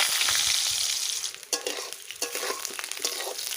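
Potatoes sizzle steadily in hot mustard oil in a wok, a dense continuous frying hiss with a few sharper stirring scrapes, close and fairly loud, no voices.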